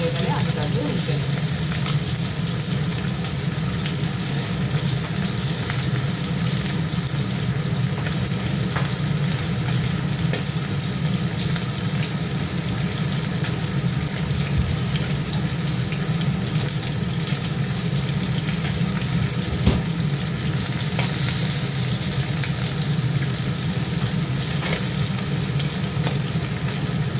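Bata fish frying in a pan, a loud continuous sizzle and crackle of hot oil that holds steady throughout, close up, with no one speaking.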